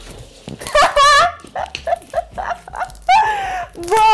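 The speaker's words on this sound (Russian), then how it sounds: "И собака здесь бесится." Inside a car, a dog whines and whimpers in high, wavering cries broken by short yips and barks, loud and close, mixed with a few other sounds.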